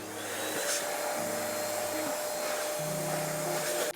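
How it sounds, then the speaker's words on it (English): An electric air blower running on low power blows loose dust out of the main chamber of a computer case, a steady loud whooshing drone with its pitch stepping up and down as it is moved. "Now I'm going to blow out the main chamber using lower power on my blower so that I can try and get all that loose dust out of the way."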